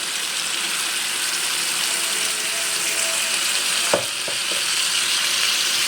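Tomato paste, with salt already added, stirred into a hot frying pan for a chicken and taro curry, giving a loud continuous sizzle with a brief scrape and clatter near the end.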